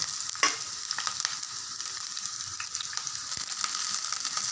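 Green chillies and garlic frying in hot oil in a frying pan, a soft, steady crackling sizzle with a few clicks and a sharper burst near the start, fairly quiet and with no talking.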